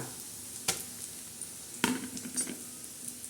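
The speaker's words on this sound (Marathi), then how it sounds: "आता ही डाळ आपण टाकली ना ही छान अशी हलवून घेणार आहे छान अशी मस्त चांगली परतून घ्यायची" Soaked chana dal tipped into a hot pan with onion and curry leaves, then stirred: a couple of sharp clatters of spoon on pan with a soft sizzle and scraping between them, close and fairly quiet.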